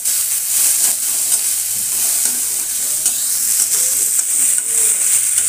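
Red spinach fries in a pan with a loud, continuous sizzle and the scraping of a stirring spatula.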